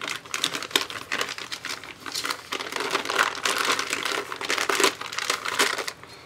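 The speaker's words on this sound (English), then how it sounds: "then wrap the gun with plastic again" Plastic wrap crinkles and crackles in dense, rapid bursts as it is wound around a gun to break in a leather holster, close and continuous with no talking.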